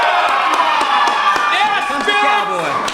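Wrestling crowd cheering during a tag-team match, a loud, dense roar of voices with shouts and whoops rising and falling, sharp slaps or thuds cutting through, and a commentator's voice mixed in.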